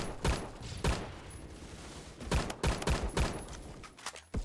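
Bursts of rapid gunfire in the first-person shooter Phantom Forces, several sharp volleys of shots crackling in quick succession with short pauses between them.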